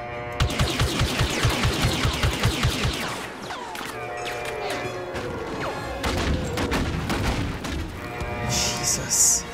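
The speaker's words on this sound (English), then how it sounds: "I think it's that walker that keeps shooting at me like that." Rapid bursts of blaster fire from a walker shooting at the player in Star Wars Battlefront 2, a loud volley of repeated shots for the first few seconds, then scattered blasts and booms under battle noise.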